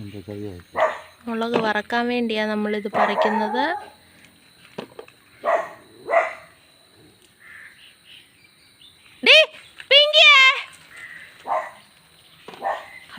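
A female dog barks at a vehicle parked by the path near a house in the evening, a few sharp barks in separate bursts, while someone talks in between and birds chirp faintly.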